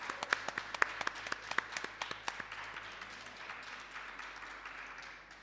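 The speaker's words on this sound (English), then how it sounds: "So a very big clap to Damayanti Beshra." Audience applause at a literary reading session at a festival, faint and distant, with scattered individual claps early on that thin into a soft, fading patter.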